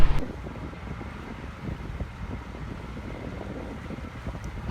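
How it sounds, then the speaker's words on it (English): Steady wind buffets the microphone with a low, rumbling roar, continuous and fairly loud, with no voices, outdoors in Alaska while waiting for a salmon tender boat. "It is cold and windy out here."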